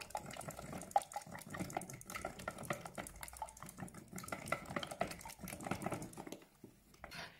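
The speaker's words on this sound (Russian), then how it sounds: "Как следует помешаем." A primer mixture for a cardboard canvas being stirred, giving soft, wet, sloshing scrapes in an uneven rhythm, close and fairly quiet, with no talking.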